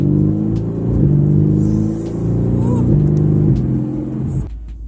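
A 2018 Mercedes-AMG GT R engine drones with a loud, steady low rumble as it pulls under throttle, swelling slightly in the middle before cutting off near the end.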